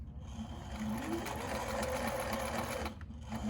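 A sewing machine stitches pleats into a fabric mask, its rapid mechanical whir running steadily and close for a few seconds before briefly easing near the end.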